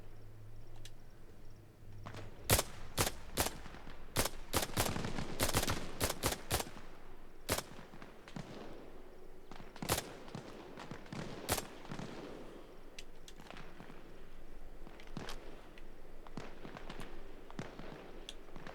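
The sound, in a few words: gunfire in video game Arma Reforger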